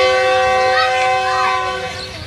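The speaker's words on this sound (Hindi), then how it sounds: "16 डाउन कराची एक्सप्रेस है ये।" The 16 Down Karachi Express sounds a long, loud horn as it departs Moradabad railway station in rainy weather, a steady close tone over rolling train noise.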